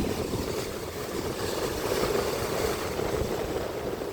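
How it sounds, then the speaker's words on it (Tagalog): Steady roar of strong ocean waves churning continuously at Martisan Resort, mixed with wind buffeting the microphone, loud and close with no voices. "Malakas yung alon guys. Ayan guys lakas ng alon"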